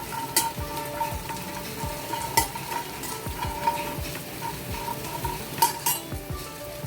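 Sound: roasting fox nuts (makhana) with sugar in a pan

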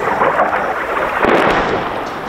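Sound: artillery shelling explosions in Ukraine

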